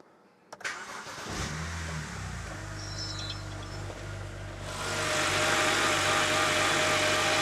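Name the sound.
car engine starting and idling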